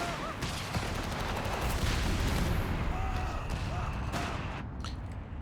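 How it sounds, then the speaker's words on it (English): Howitzer and other artillery fire boom and crackle in a Company of Heroes 3 battle, dense overlapping blasts and gunfire rolling continuously with a few brief voices mixed in. "Do I hear a howitzer somewhere?"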